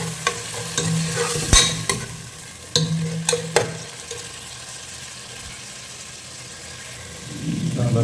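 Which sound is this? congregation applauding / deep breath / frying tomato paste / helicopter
frying tomato paste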